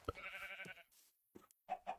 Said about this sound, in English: And there's even more sheep and chicken.